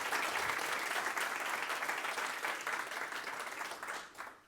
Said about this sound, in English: Give Mira a round of applause.